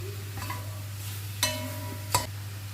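Browned beef and plain flour being stirred together in a pan for a beef and ale stew, with a steady low hum underneath and two sharp scraping knocks of the spoon against the pan.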